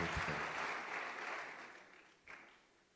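Church congregation applauding during a Sunday school service, a soft, distant wash of clapping that swells briefly and then fades out over a few seconds.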